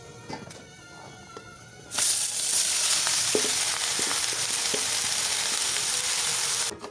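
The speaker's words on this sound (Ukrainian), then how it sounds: "Розігріваю пательню і відправляю жаритися цибульку." Onion dropped into a heated pan bursts into a loud, close sizzle that holds steady for several seconds after a few quiet clicks beforehand.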